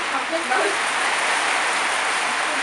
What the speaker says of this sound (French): Et admirer cette très forte pluie.